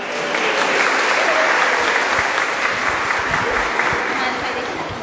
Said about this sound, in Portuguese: Vamos dar uma salva de palmas para ela.